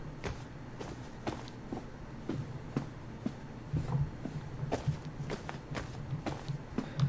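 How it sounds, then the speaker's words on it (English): Footsteps in a horror video game cross grass and then tile, a steady run of close, soft steps that turn sharper and more clicky partway through, with no talking. "we're walking on grass right now, so we should hear the grass footstep when we start walking, and when we get to the tile, it should start playing the tile footstep"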